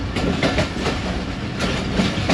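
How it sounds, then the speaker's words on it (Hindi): Rehman Baba Express passenger train running onto the loop line at Dumeli station in Pakistan, a steady loud rumble with rhythmic clickety-clack of wheels over rail joints throughout, no talking. "ट्रेन हमारी एक बार फिर लूप लाइन पे आ रही है"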